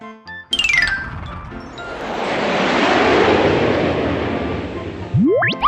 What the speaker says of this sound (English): An airplane goes whoosh, whoosh, whoosh.